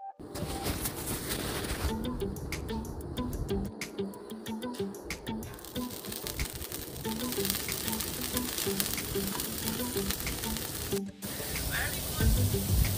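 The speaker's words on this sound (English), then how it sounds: "Saute some shrimps. And then asparagus." Shrimp sautéing on a flat grill gives a steady, close sizzling hiss throughout, with a short gap of quieter cooking noise and a brief dropout near the end.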